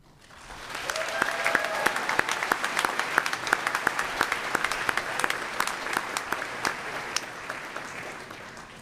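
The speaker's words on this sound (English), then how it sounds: "Please join me in a round of applause for all of our engineer graduates" Sustained applause from a large crowd at a university fall graduation ceremony, honoring engineering graduates; dense steady clapping fills the hall throughout, with faint voices underneath.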